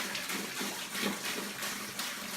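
Homebrewed beer wort pouring into a fermenter, a steady close splashing gush of liquid with no talk.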